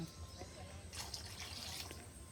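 Water pours briefly with a soft splashing rush, fairly quiet against a low background hum.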